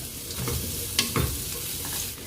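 Ginger fries in a pan for Kerala ginger curry, hissing and sizzling close by. A few stirring scrapes and a spoon knock break through the steady crackle.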